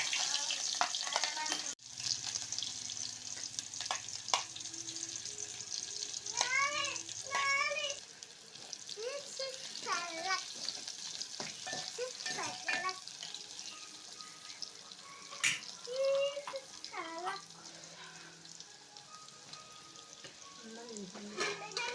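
Mustard seeds, chilli and onion frying in a pan give a steady close sizzle, with occasional stirring clicks and faint voice-like sounds in the background.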